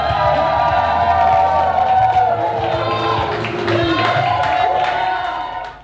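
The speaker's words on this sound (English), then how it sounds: "I want to hear one more huge round of applause for your newlyweds, Derek and Leah, Mr. and Mrs. Paxton." Wedding guests at a reception cheering, whooping and clapping loudly for the newlyweds, a lively crowd roar with shouts and applause that carries on for several seconds before fading at the end.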